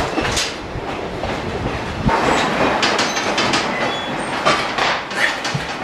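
The Leadville train in Colorado rolls along the rails with a steady rumble and rhythmic clicks and clacks, heard from inside the moving car at the front.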